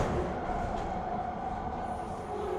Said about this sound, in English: This train ride is nice.